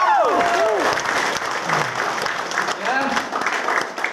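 Audience applauding Pak Teguh Ridwan at a Monspace business gathering, a steady continuous clapping from a crowd that fills the whole stretch, with a voice talking over the start and a brief word near the end.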